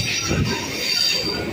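A local train runs from Sealdah to BBD Bag, giving a loud, steady rail rumble with high wheel squeal sustained throughout and no voices.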